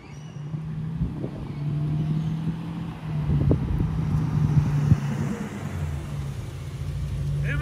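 A straight-piped Toyota V12 car engine idles and burbles nearby with a low, throaty rumble, swelling slightly around the middle with a few revs, amid outdoor wind noise and no talk.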